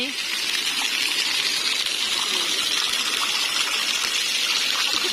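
Water gushes out of a cave in Loei province, Thailand, making a loud, steady, close rushing roar that fills the whole stretch without letting up.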